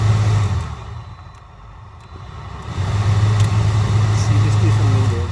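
The cabin blower fan motor of a 2011 Toyota Corolla runs with a steady hum that dips briefly and then returns stronger, as though the fan was switched off and on again.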